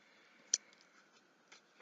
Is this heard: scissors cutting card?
yes